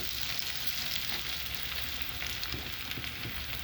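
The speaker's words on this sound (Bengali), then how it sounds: "গোটা লঙ্কা একটু জাস্ট ভেঙে ভেঙে নিয়েছি, এগুলোকে ওর সঙ্গে ভেজে নেবো, হালকা ভাজা হবে" Whole dried red chilies, broken into pieces, fry in hot oil with a steady close-up sizzle and crackle, even and unbroken, with no voices.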